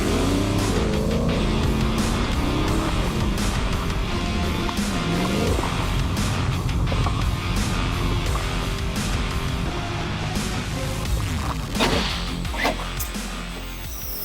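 Ford F-150 Raptor R pickup truck driving, a loud, steady engine and road roar continuing throughout, with occasional thumps and knocks, easing off slightly near the end.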